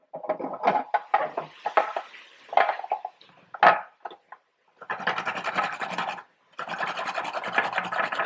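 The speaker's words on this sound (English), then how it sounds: "So I'm going to grab the grater and do some grated carrot." Carrot is rasped over a double-edged grater in quick rhythmic strokes, first as separate scraping bursts and then as two longer runs of rapid continuous grating, close up with brief pauses between and no talking.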